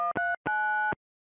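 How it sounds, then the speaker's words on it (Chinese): Telephone line tones as a call is placed: two short beeps in quick succession, then a longer steady tone of about half a second, followed by silence. "掏出了电话打给了王静玉"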